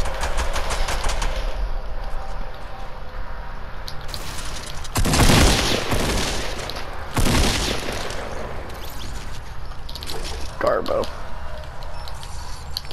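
Loud shotgun blasts in a video game, two heavy booming shots a couple of seconds apart standing out over steady game noise and faint clicks, with a person talking over the action.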